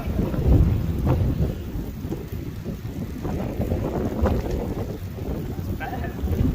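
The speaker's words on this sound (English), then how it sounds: "It's a 30-mile-an-hour wind gusts all day." Strong 30 mph wind gusts buffet the microphone while riding an e-bike, producing a loud, continuous low rumble that rises and falls with the gusts throughout.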